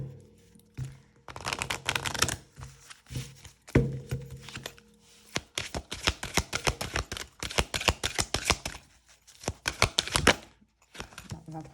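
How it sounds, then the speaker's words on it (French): A deck of very thick oracle cards is shuffled by hand in repeated bursts of papery riffling and flicking, close and fairly loud, with short pauses between rounds. "Donc les cartes, elles sont, quand on les mélange, elles sont vraiment très très épaisses."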